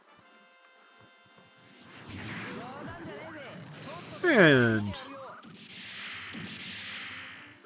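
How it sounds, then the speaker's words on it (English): Beam cannon attack firing in the SD Gundam G Generation Genesis video game, a loud mid-clip burst with a swooping tone and whooshing sweeps among other game effects, with someone talking over parts. "good beam cannon from the look of things"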